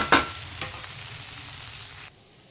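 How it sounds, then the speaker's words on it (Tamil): Okra sautéing in a kadai, with one sharp spatula scrape followed by a fainter second stroke, then a low steady sizzle that cuts off abruptly near the end. "சைடில் அப்படியே வெண்டைக்காவையும் வதக்கி விட்டுக்கோங்க"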